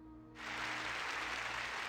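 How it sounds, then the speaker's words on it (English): A burst of crowd applause suddenly starts and continues steadily as a sound effect in the game Angels of Death, over a low background hum. "Oh, it's for the applause."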